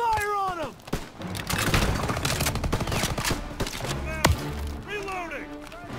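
Battle gunfire in Call of Duty WWII: loud bursts of rifle and machine-gun shots with heavy thuds and impacts, mixed with shouting voices and whistling effects.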